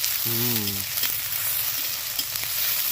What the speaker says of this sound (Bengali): পেঁয়াজ কুচিটা আমি মেরে নেব